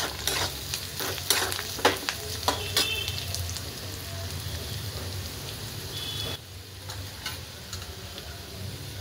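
Carrots added to onions in a pan stir-fry with a continuous sizzle, while a utensil scrapes and taps against the pan in sharp bursts early on, then the frying hiss settles lower and steadier.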